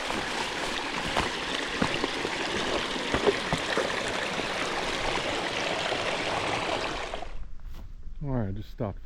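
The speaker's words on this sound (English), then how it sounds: "Coming up to the main branch of the North Fork of the Citico as it comes off the mountain." Water rushing down the North Fork of Citico Creek as it comes off the mountain in a wilderness area, a steady broadband roar close by that stops abruptly near the end, followed by a brief voice.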